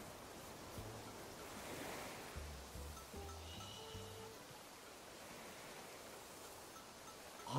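Ocean waves wash onto a beach in Animal Crossing: New Horizons as a soft, steady surf hiss, with a few brief chiming game tones near the middle.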